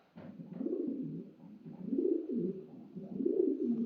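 Soft, low coos from show pigeons at a pigeon auction repeat in a steady rolling rhythm, three drawn-out calls close by in a quiet setting.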